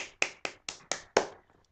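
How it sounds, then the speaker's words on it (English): A single person claps six times at a steady rhythm, crisp close hand claps fading at the end, sparse and without a crowd. "Do you give him a round of applause?"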